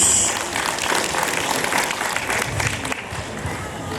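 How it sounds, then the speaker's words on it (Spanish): Wedding guests applaud the newlyweds with a dense round of crowd clapping that stays fairly even, then tapers slightly toward the close. "vengan los aplausos para los flamantes esposos Héctor y Luz."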